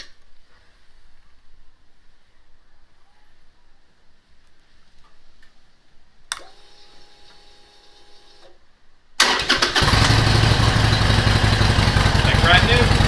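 A 2013 Harley-Davidson XL1200C with a fresh battery and new plugs cranks briefly, then fires up into a loud, steady engine roar that carries to the end, with no talk over it.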